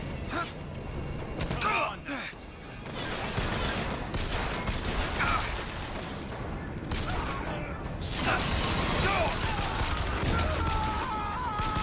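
Gunfire from the video game Bioshock Infinite, dense bursts and fusillades with impacts and groans, fairly loud throughout a busy mix of game effects and music.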